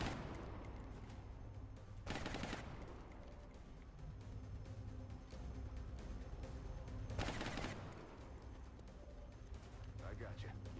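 Rapid bursts of automatic gunfire from the XCOM Long War video game, loud and dense, with two especially heavy volleys standing out over a constant rattle of game sounds.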